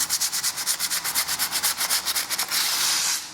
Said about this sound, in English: it only takes a light sand